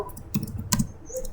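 A few close keystrokes on a computer keyboard while entering a network switch command, quick separate clicks over a quiet room.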